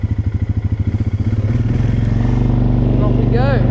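Quad bike engine starting with a pulsing idle that rises into a steady, loud drone as it pulls away across a field, close to the rider, with a brief voice near the end.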